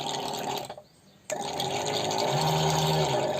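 A low-cost agricultural sprayer pump, newly unboxed, is switched on after a brief pause and runs with a steady whirring hum and sloshing water, growing slightly louder toward the end, with no talking.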